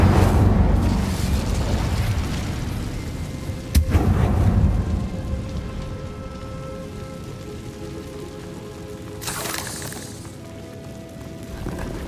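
An Incendio fire spell cast in Hogwarts Legacy, a sudden whooshing burst of flame with a sharp crack, then a rumbling, crackling roar that fades into a low ambient hum, with a second fiery flare later.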